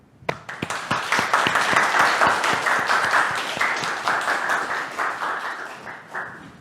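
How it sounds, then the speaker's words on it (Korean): Lecture audience applauding to welcome a KAIST professor before a talk on digital assets and NFTs, a steady wash of many hands clapping with a few sharp nearby claps standing out, fading slightly toward the end. "이병욱 교수님을 큰 박수로 환영해 주시면 감사하겠습니다"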